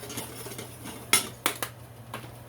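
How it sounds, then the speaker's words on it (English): A whisk scrapes and clinks against a pan while stirring a roux of butter and flour for mac and cheese. There is a soft continuous swish with a few sharp metallic taps, moderately quiet and without speech. "taking a whisk and I'm whisking it."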